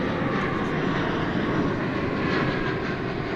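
A Qatar Airways jet in oneworld livery taxis at Dallas Fort Worth airport, its engines a continuous broad roar with a faint whine, steady and moderately distant for the whole stretch.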